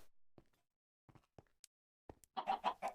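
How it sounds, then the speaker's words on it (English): Chickens on a chicken farm in a video game: a few scattered soft clicks and taps, then a burst of close, busy clucking near the end. "and from the chicken farm over here."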